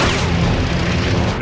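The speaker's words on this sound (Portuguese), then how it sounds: "The burst caught him dead center, and his plane caught fire. He exploded, actually." A fighter plane blows up after being hit in aerial combat, a loud, continuous roaring blast that stays heavy and rumbling throughout, close and overwhelming with no talk.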